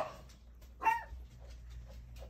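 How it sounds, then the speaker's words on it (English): Dog barking once, irritated by a cat, a single short sharp bark at moderate distance in an otherwise quiet room, followed by faint whimpering sounds. "what my dog does is he gets irritated with the cat and he barks"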